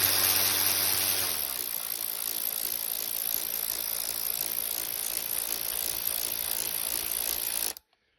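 A ratchet wrench loosens a nut on a Ducati Diavel motorcycle, a fast, continuous close-up clicking whir that shifts pitch after about a second, then runs steadily until it stops abruptly near the end.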